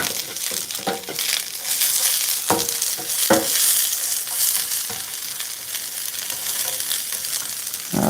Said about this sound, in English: cooking our long beans now. We'll give those a little bit longer.